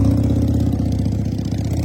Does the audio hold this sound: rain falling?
no